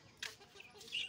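A rooster in a farmyard setup gives a few faint, brief clucks and calls against quiet background, with some light handling noise.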